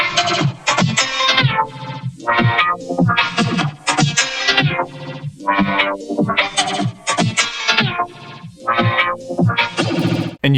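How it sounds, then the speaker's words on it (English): A melodic loop run through a spectral modulation effect plays continuously, coming out as loud, choppy, distorted bursts of smeared, metallic tone with short gaps between phrases. "it uses that signal to modulate whatever your carrier is, which in this case is this melodic loop"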